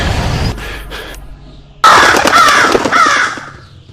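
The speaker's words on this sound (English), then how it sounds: "the crows that fake jump scare you" Crows caw harshly and loudly in the corn maze level of a Five Nights at Freddy's horror video game, a sudden burst of several overlapping caws after a quieter eerie stretch, with no voices.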